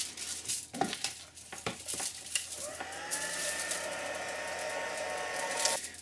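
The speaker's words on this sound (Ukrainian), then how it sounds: "Підсушимо виштампувані зображення феном." Hair dryer blowing over freshly stamped ink images on foil, a steady close airy roar that starts a few seconds in after light handling clicks and continues to the end.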